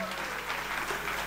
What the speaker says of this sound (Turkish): Ali arkadaşımız ve Neyde de Vedat Yeşilci arkadaşımıza kocaman alkışlar diliyorum arkadaşlar